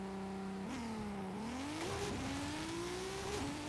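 A 1600HP Toyota Supra drag build in Forza Horizon 5 makes a launch-control start: the engine holds a steady high rev, then surges upward through rising pitch steps, loud and continuous, with no talk.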